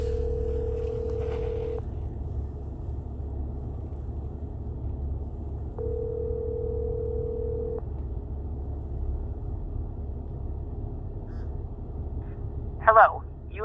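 Ringback tones for a call to a township police department, long steady beeps in two bursts spaced several seconds apart over a low constant hum, with a few brief clicks near the end.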